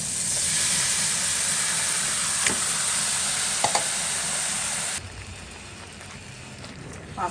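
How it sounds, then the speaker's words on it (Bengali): Pieces of elephant apple (chalta) go into a hot pan with a spiced paste for pickle, giving a steady loud broadband sizzle and hiss with a few soft clinks, easing to a quieter simmer partway through. "এখন দিয়ে দিব চালটাগুলো।"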